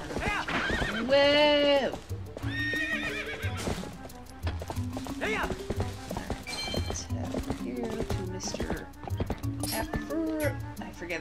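A horse in the Zelda Twilight Princess video game neighs loudly, then clip-clop hoofbeats gallop at a steady rhythm, close and prominent, with a brief spoken word and some background music.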